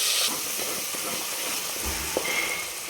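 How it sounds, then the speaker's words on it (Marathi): Freshly ground masala frying in hot oil, a loud continuous hiss of sizzling that holds steady throughout, with a couple of faint clicks near the end. "ते आपल्याला वाटल्याला मसाला टाकून द्यायचा आणि तेलात परत एकदा फ्राय करायचा आहे"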